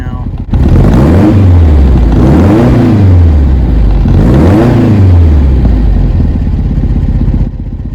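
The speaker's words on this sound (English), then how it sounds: "There it is, sitting in the car, idling at about 950." A rebuilt VW 1800 engine idles at about 950 rpm in its car, a steady, fairly loud mechanical drone, with rhythmic swells and faint clatter throughout, close to the mic, then dropping slightly in level near the end.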